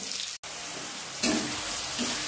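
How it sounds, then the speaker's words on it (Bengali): Chopped onions hit hot oil in a pan already holding rohu fish with whole cumin and bay leaf, giving a broad steady sizzle with a brief cut-out and a louder burst of frying partway through. "এখন দেবো কুচানো পেঁয়াজ। কুচানো পেঁয়াজগুলো দিয়ে দিলাম।"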